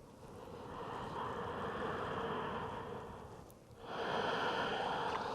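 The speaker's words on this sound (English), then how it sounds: "take one more cycle of breath here," Slow, deep breathing during a yoga flow, a long steady exhale followed by a brief pause and then a fuller inhale, close and soft with no talking.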